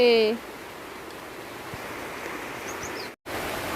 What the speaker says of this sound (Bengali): প্রচুর বৃষ্টি আইছে